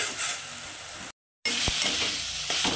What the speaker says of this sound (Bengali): এখন এগুলোকে আমি খুব সুন্দর করে একটু ভেজে নেব। জলটা শুকিয়ে যাবে এরকম ভাবে পুরোটাই ভেজে নেবো একদম শোকানো পর্যন্ত।